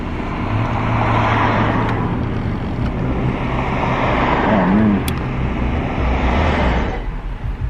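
Steady road and engine noise rolls on inside a moving car, a continuous loud rumble and hiss with slight swells, filling the whole stretch without talk.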